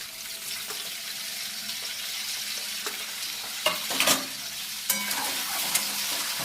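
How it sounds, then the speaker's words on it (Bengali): An egg frying with turmeric in a pan, a steady soft sizzle throughout with occasional scraping clinks of a utensil stirring, close and fairly quiet, with no talking. "দেখো, ডিমটা একটু হালকা করে ভেজে নিচ্ছি।"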